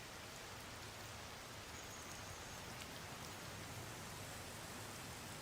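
Rain falls in a video game, a faint, steady, even hiss of downpour that continues unchanged for several seconds with no voices.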